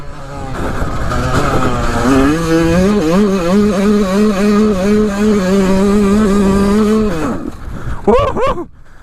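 A Yamaha YZ125 two-stroke motorcycle engine screams at full throttle, its pitch climbing and holding high for several seconds before cutting off abruptly, with brief shouting at the end.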